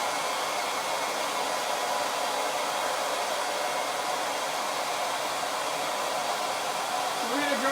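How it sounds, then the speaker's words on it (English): A hair dryer blows steadily on a shirt to dry an inked transfer, a loud, constant rushing whoosh that runs unbroken from start to finish, with a brief voice near the end. "So we're going to dry this with the hair dryer while the Easy Press warms up."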